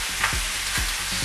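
Vegan stir-fry with Thai coconut curry sizzles in a very hot pan, a steady frying hiss broken by several quick scraping strokes of stirring.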